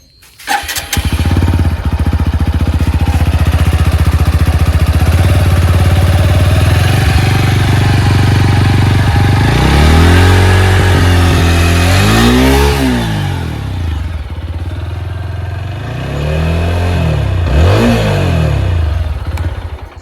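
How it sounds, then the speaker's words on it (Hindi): A TVS Apache RTR 160 4V motorcycle starts and idles with a loud, steady, close rumble, then revs up and down in several sharp throttle blips before settling back to idle. "बाइक की आवाज़ से आपको भी पता लग रहा होगा कि एकदम जेन्युइन है"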